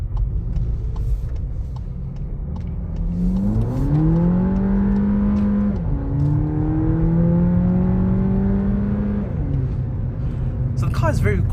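A 2022 VW Polo GTI pulls hard through the gears in rush-hour traffic, its engine note rising steadily, dropping at a shift, then climbing again, with road rumble underneath, heard from inside the cabin.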